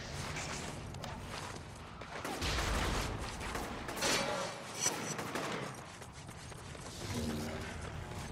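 Bursts of gunfire in the video game Infamous, rapid volleys and scattered shots with some mechanical clatter and footsteps, steady and fairly close, with no talking.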